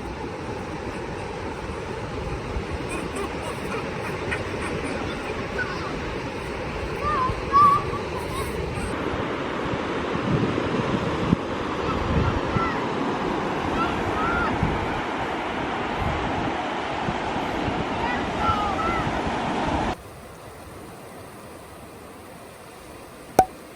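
Waves wash steadily along a sunny beach, a continuous broad surf roar with some wind and scattered faint bumps, dropping off abruptly near the end.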